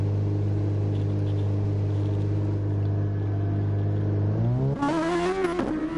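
A Super Formula race car in a racing video game holds a steady engine drone through the pit lane, then revs up and accelerates hard as it leaves the pits, loud and close.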